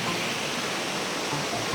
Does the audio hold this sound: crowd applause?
no